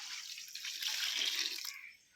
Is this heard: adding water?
yes